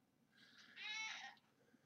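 A cat gives a single drawn-out, rising meow, soft and fairly close over quiet background hiss, with no talking.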